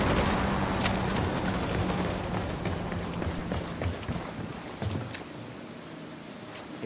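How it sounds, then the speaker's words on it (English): Rapid bursts of automatic gunfire in the tactical shooter Ghost Recon Wildlands during a firefight, crackling continuously with sharp shots spiking through a dense, noisy background. "I'm shooting these fuckers"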